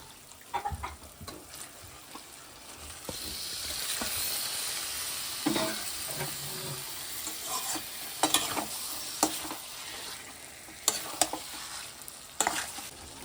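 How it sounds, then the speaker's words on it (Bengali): Washed chicken dropped into sizzling spice masala with tomato and green chilli for a desi chicken curry, then stirred: a sudden rise in frying hiss, then steady sizzle broken by scraping spatula strokes, close by. "এবার এই যে ধুয়ে রেখেছি চিকেনটা এবার দিয়ে দেবো"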